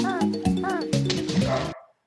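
A dog barks indoors, three or four loud, rough barks in quick succession over a couple of seconds before they cut off abruptly.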